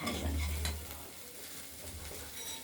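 Chopped cauliflower and small potato pieces stir-fried with panch phoron in a wok, a soft steady sizzle with light scraping strokes, close and fairly quiet.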